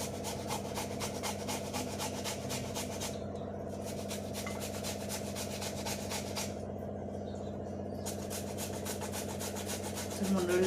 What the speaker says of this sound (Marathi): तर बघा मी हे किसणीनं असं त्याला बारीक किसून घेते.